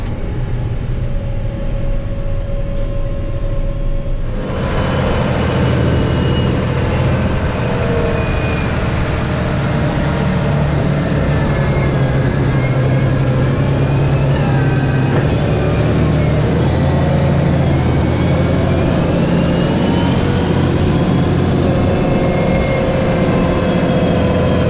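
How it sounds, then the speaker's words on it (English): A John Deere 8R 370 tractor pulling off during corn harvest, its heavy engine rising after a few seconds into a loud, sustained, broadband drone with a whining tone, close and steady to the end. "Now it's time to take off again, and tractor seamlessly jumps up in speed."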